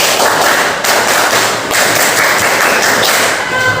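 A group performs the Indonesian scout clap (tepuk pramuka) in a rhythmic pattern, sharp claps grouped into quick bursts with brief pauses between, loud and close.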